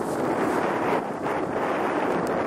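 Strong wind blows steadily across an exposed hilltop at Baranovo where paragliders gather, buffeting the microphone with loud, continuous roaring gusts and no speech.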